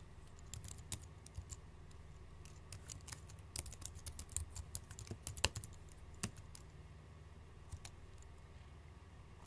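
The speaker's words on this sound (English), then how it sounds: "And we do that by typing out the command here." Quick, uneven computer keyboard typing with crisp clicks in bursts, a few louder key strikes, close by and otherwise quiet.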